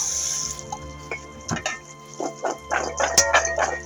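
Tap water runs over Brussels sprouts and carrots being rinsed in a sink, with splashes and clattering as the vegetables are tossed under the stream, close and fairly loud, no talking.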